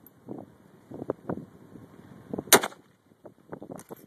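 A single sharp, loud report from a Mossberg 464 30-30 lever-action rifle fired outdoors, surrounded by wind buffeting and faint movement noise before and after.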